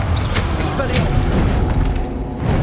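A Hogwarts Legacy disarming spell, Expelliarmus, is cast on PS5, making a sharp magical zap and booming impact within loud ongoing combat sounds, with several bright bursts in under three seconds.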